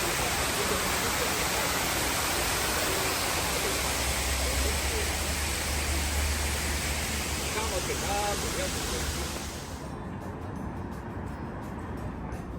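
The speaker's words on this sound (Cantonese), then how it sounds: "真係聽到水聲特別舒服。" Steady rushing water, like a nearby stream along Bowen Road on Hong Kong Island, fills the scene continuously, with a voice talking faintly beneath it; the flow eases slightly near the end.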